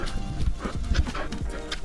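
A dog pants steadily and close by in rhythmic, breathy bursts outdoors near a river, with no talk over it.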